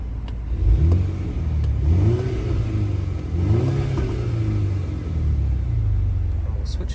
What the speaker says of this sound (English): Being a John Cooper Works, does have a bit more of a throaty exhaust